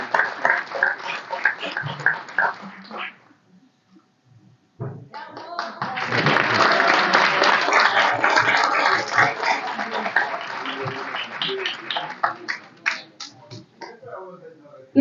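An audience applauds at a Paraguayan cultural association anniversary celebration. A speaker talks first, then the room goes quiet briefly before sustained clapping begins, loud and dense, and it gradually thins out at the end.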